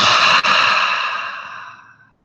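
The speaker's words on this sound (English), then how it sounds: "Open wide and exhale." A single slow, breathy exhale through a wide-open mouth, loud and close at first, then softening and trailing off into silence after about two seconds.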